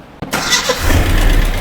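A 1972 Datsun 620 pickup being revived cranks and catches after a short quiet moment, then settles into a loud, close, steady low idle rumble.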